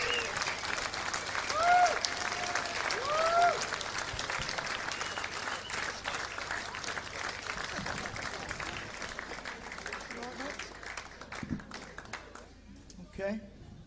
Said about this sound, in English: Please, round of applause here.